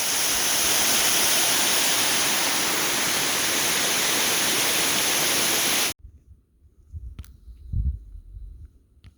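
Loud, steady roar of a waterfall on the Foothills Trail fills the first six seconds, then cuts off abruptly to a quiet outdoor scene with faint, low rustling and handling noises.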